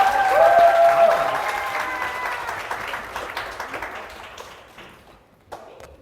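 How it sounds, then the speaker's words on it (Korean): Loud applause from a concert audience, dense clapping that starts strong and gradually thins and fades over several seconds, with a brief whistle-like tone early on. "박수 소리가 크지 않아요"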